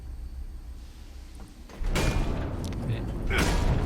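In Remnant: From the Ashes, a heavy door opens with a deep booming rumble that swells and lingers, a second surge following, while a person talks over the game audio.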